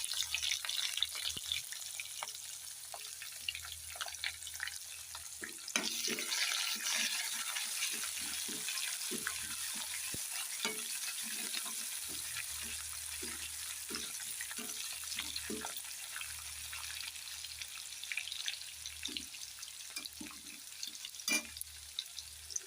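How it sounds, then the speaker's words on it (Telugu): Onion pieces frying in a pan until golden brown, a continuous close sizzle with clusters of small crackles and occasional stirring scrapes, running steadily with no talk. "ఈ ఉల్లిపాయ ముక్కలు గోల్డెన్ బ్రౌన్ కలర్ వచ్చే వరకు వేసుకోవాలి"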